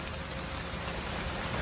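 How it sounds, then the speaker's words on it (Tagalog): Heavy rain pours down steadily as a dense, even hiss that fills the whole short stretch, with no voices over it. "Yan, lumakas yung ulan."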